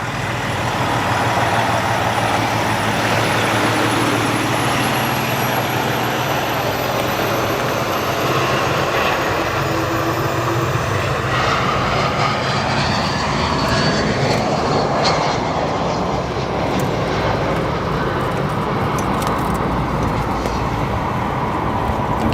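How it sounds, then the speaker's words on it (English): An airliner landing at O'Hare gives a sustained loud engine roar and rushing air for over twenty seconds, a high whine sliding upward and falling tones showing as it passes near, with no single touchdown thump standing out and no voices. "Took her a little while to get that, get those mains to touch down"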